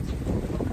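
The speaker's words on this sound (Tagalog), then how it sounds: "Tinatangay ako ng hangin, guys" Cold wind rushes and buffets against the microphone in a brief, loud, steady roar with low rumbling, while a voice is faintly present beneath it.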